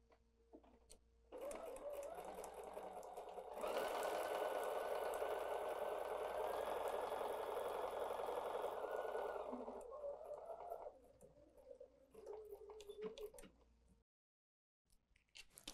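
A sewing machine stitching a fabric starter strip for a stocking ornament: a steady mechanical whir that starts, runs continuously for several seconds, then slows into short bursts before stopping, fairly quiet and close.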